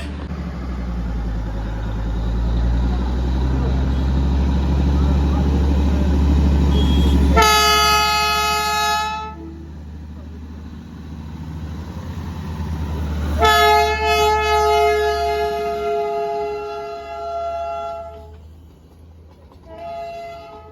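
A toy train in the hills near Siliguri rumbles by with a low engine drone, then sounds two long, loud multi-tone horn blasts a few seconds apart before fading.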